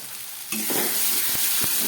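Young jackfruit sautéed in a pan with turmeric, chilli powder and salt: after a short quiet start, a steady loud sizzle fills the rest, broken by a few soft scrapes of stirring.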